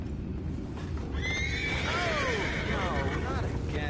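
Horse in Red Dead Redemption 2 whinnies in a long, wavering neigh over a steady background rumble, close and clear, with faint talk around it.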